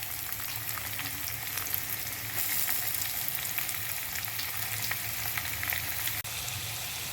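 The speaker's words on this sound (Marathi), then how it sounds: "आता ह्या स्टेजला आपल्याला त्याच्यामध्ये घालायचा आहे कांदा" Onion frying in oil with crispy garlic in a pan makes a dense, steady sizzle that grows slightly louder partway through, with a single sharp knock near the end.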